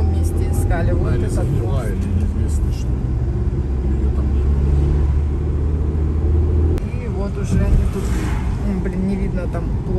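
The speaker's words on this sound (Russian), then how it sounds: "Еще и машина едет" A car drives past on a winter road near a river, a steady low rumble that swells and fades over several seconds, heard under ongoing conversation.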